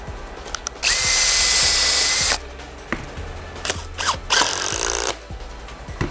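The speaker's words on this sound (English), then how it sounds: "just making sure that this piece is fitting nice and flush before you start to pilot drill anything" A power drill pilot drilling into a subwoofer baffle for a 2x21 speaker kit, one long loud whine followed by several short bursts and clicks of the trigger, close by with no talking.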